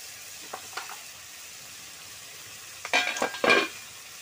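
Spinach curry with green chilli paste, turmeric and dried lentil dumplings sizzling as spices are fried in a pan, a soft steady sizzle broken by a few scrapes and clinks of a spoon stirring against the pan.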